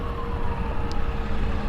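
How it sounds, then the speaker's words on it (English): Sirens from a small police motorcade heading toward Capitol Hill, a steady distant wail sitting under continuous traffic rumble with no talking. "I got some sirens over here."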